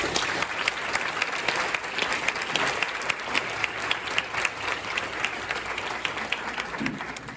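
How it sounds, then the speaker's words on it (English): An audience at a Neighbors for Nonviolence community gathering gives a sustained round of applause, with many hands clapping steadily and close for about seven seconds. A few louder claps and cheers poke through the wash. "Another round of applause for everyone."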